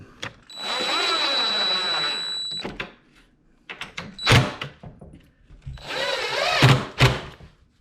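A power drill drives a 2-inch interior grade construction screw into the pre-drilled, countersunk kick of a kitchen island cabinet: two long whirring bursts of driving separated by sharp knocks and thunks, close and loud, with no talk.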